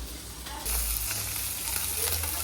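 Fish frying in a pan, a steady close sizzle and crackle of oil that grows louder partway through and holds without talk.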